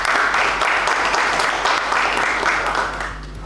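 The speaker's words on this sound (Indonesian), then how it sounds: "terima kasih tepuk tangan dulu semuanya" A university lecture class on education management gives a round of applause, steady dense clapping from a room of students that stays even before tapering at the end, with a low hum underneath.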